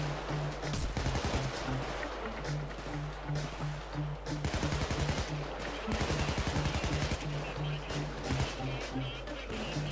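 Police gunfire in the Payday 2 video game comes as rapid automatic bursts in several volleys, loud and close, with someone talking over the shooting in between.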